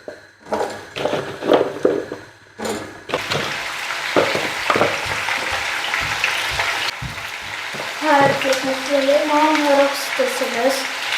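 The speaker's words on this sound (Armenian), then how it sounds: "Ես էլ արդեն կարտոֆիլը տապակեմ" Small home-grown potatoes fry in a pan: a few sharp knocks and clatters come first, then a continuous close sizzle takes over, with a voice speaking over it near the end.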